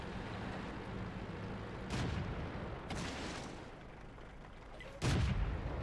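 Tank cannon fire in World of Tanks: three heavy booms land about a second apart over a steady low battle rumble, with the last shot the loudest and closest.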